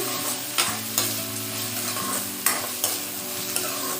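Drumsticks are stirred and fried in a pan with onion, tomato and green chili for a dhal, a steady sizzle broken by several sharp scrapes and clinks of the spoon against the pan.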